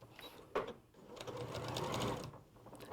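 A domestic sewing machine stitches slowly around a corner and over a fabric seam, its soft whirring motor and rapid needle clatter running quietly and close up.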